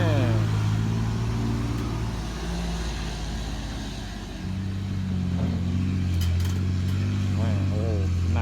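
A loaded pickup truck's engine strains to pull away uphill, giving a loud, close, droning growl that dips briefly and then swells again as it climbs, with someone talking over it.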